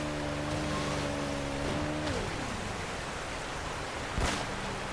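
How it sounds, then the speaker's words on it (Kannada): Fast-flowing river water rushes around a boat in Uncharted: Drake's Fortune, a dense continuous wash with a low engine-like drone that fades out partway, and a brief splash near the end. "ನೀರು ಮಾತ್ರ ಸಿಕ್ಕಾಪಟ್ಟೆ ಸ್ಪೀಡಲ್ಲಿ ಫ್ಲೋ ಆಗ್ತಾ ಇದೆ"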